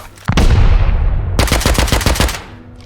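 Loud automatic gunfire in the survival game Rust, a sustained burst followed by a rapid string of distinct shots that tail off, with no talking.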